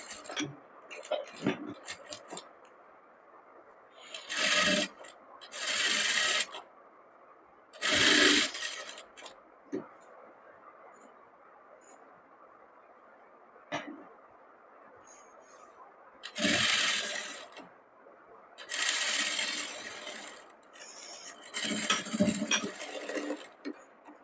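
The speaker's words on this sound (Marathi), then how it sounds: "या ठिकाणी आता आपण फायनल या ठिकाणी फिटिंगची शिलाई देणार आहोत।" A sewing machine stitches a padded blouse in several short bursts of rapid mechanical whirring, separated by quiet pauses with faint handling clicks and ticks.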